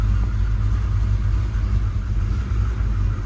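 Steady low rumble of a Callaway SuperNatural Chevrolet Impala SS on the move, a continuous mid-pitched engine drone with road noise, no voices.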